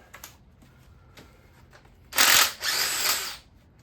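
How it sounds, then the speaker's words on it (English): A power drill spins bolts out of a 1984 Chevy square body engine during a bottom end teardown, two loud whirring bursts after a few quiet clicks and taps. "can just throw it on the drill"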